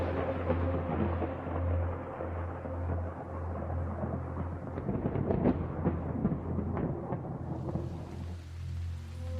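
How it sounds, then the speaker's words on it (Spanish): Low rolling thunder rumbles in the distance over steady rain, with the downpour growing louder and hissier near the end. "un fuerte trueno se escuchó a lo lejos. Sin darnos cuenta, la lluvia estaba cayendo sobre nosotros."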